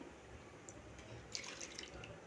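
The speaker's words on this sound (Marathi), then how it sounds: "तर दोन वाट्या मी यामध्ये पाणी घालत आहे" Two bowls of water pour steadily and softly into a container, a continuous faint splashing with a few brighter trickles near the end.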